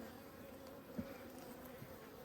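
Honeybees buzzing around an open hive during an apiary inspection, a steady, faint drone of many wings close by, with a small bump near the middle and no voices.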